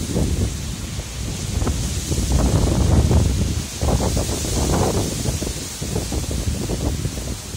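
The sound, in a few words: strong wind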